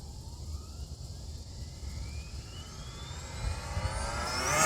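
Arrma Limitless RC car at full throttle, a high electric whine climbing steadily in pitch as it speeds away and back, growing louder toward the end over a rushing outdoor background.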